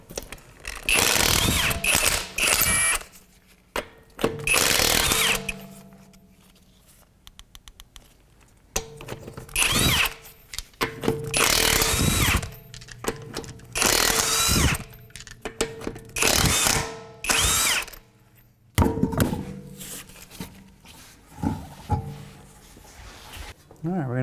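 A power tool with a 22mm socket spins lug nuts off the front wheel of a 2008 Acura MDX, in loud, close bursts of rattling whir separated by pauses and short clanks.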